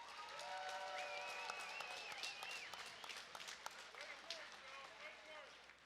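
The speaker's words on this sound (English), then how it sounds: "how about a round of applause for one hell of a contest?" A crowd at a CW 62 cage fighting event applauds after a three-round fight, steady clapping and cheering mixed with whoops and whistles, while a voice carries over the noise.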